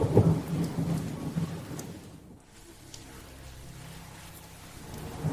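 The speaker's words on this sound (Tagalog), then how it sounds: "Umuulan na." Steady rain falling with a continuous wash of drops, heavier at the start and end, and a dip in the middle; distant thunder rumbles low underneath.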